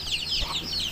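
Hens and chicks in a backyard vegetable garden, a mother hen tethered near her scattered brood; steady close clucking and high chirping peeps fill the short moment, with a soft low thump midway.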